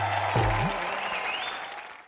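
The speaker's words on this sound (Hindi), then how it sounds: "एक बार हमारे तीनों सुपरस्टार के लिए जोरदार तालियां हो जाए" Studio audience applause on a Hindi television comedy show, cheering three star guests. A broad, steady wash of clapping runs under the short stretch, with a voice briefly heard at the start before the applause fades slightly.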